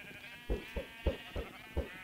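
Sheep in Minecraft bleat quietly in a quick series of five short, evenly spaced calls over soft background music, with no one speaking.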